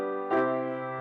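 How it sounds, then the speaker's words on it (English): Two sustained piano chords forming a deceptive cadence ending on the six chord, the second entering with a brighter attack and ringing out, close and clear with no voices. "Deceptive ends on 6."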